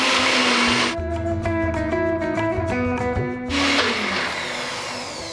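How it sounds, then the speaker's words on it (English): Blender whirring through an olive oil pastry mixture, a loud continuous motor whine that runs for a few seconds, alone with no talking. "when you use a blender or a hand blender, you get a really thick"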